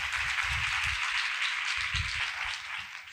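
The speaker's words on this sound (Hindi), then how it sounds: "खुदा के जलाल के लिए जोरदार ताली" A congregation bursts into loud, sustained applause in praise of God's glory, a dense wash of clapping from many hands that swells and then tapers off toward the end.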